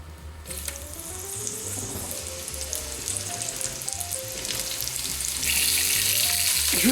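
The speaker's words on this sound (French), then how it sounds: "J'ai mis un poêlon sur le feu, donc je vais y ajouter un peu de matière grasse, un filet d'huile, et je vais y déposer ma garniture aromatique" Aromatic vegetable garnish sizzling in oil in a small pan on the stove, a steady close hiss that grows louder and brighter toward the end, with faint clinks of utensils.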